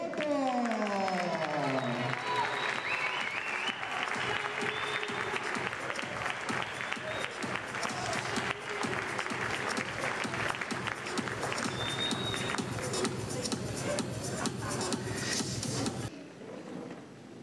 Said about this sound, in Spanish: Un fuerte aplauso para Diego Musoto.